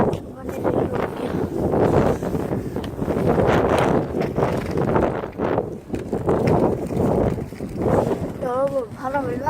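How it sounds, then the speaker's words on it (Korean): Strong wind gusts outdoors in a neighbourhood, rumbling and buffeting the microphone, while a person talks over it almost the whole time. "여러분, 바람 얼마나 부는 줄 알았어요? 이만큼 심하게 불어요."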